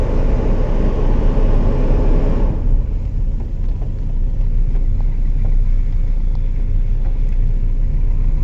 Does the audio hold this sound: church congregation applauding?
no